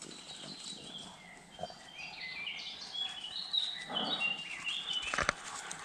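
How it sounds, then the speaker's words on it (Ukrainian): Songbirds chirp and whistle in a spring forest among mountains, with scattered bright calls at moderate distance over quiet woodland background, a few sharper chirps near the end. "Ой, як птахи співають"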